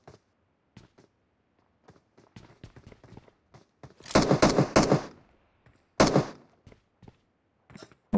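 Gunfire in the video game PUBG Mobile, a couple of loud rapid bursts of automatic shots midway through, with scattered quieter clicks and taps around them.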